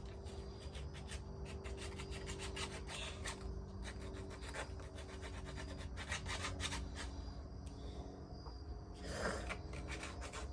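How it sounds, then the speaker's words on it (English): Steady back-and-forth rasping of 100 grit sandpaper against a surface while making a puppet, continuous and close, with a dense scratchy texture and no talking. "make a point to pull down when you're using this type of sandpaper"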